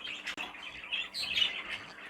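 Captive show birds in a stock cage give repeated squawks and chirps over 2 seconds, close and moderately loud, with one sharp call standing out early.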